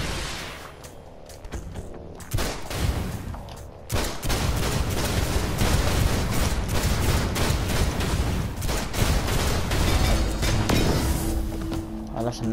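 Bursts of gunfire from combat in DC Universe Online on PS4, repeated loud shots and impacts over busy game noise, with a player talking excitedly over much of it.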